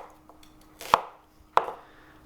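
Onion being cut into cubes for a Korean soybean paste stew, two sharp knife strikes on a cutting board about half a second apart, close and clear, with faint soft cuts before them.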